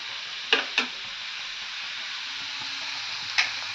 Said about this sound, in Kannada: ಲವಂಗ ಚಕ್ಕೆ ಈರುಳ್ಳಿ ಒಗ್ಗರಣೆ ಸೊಪ್ಪು ಎಲ್ಲ ಹಾಕಿ ಫ್ರೈ ಮಾಡ್ತಾ ಇದ್ದೇನೆ ನೋಡಿ